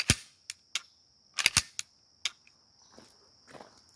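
Sharp metallic clicks and snaps from a SIG Sauer P320 pistol handled for a function test, a close series of distinct clacks with gaps and a faint steady high whine behind, no talk.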